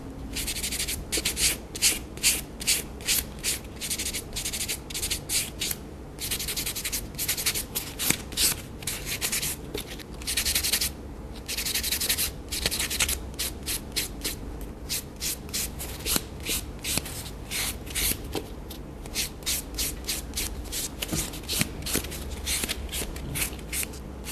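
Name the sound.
sanding block smoothing a gel nail surface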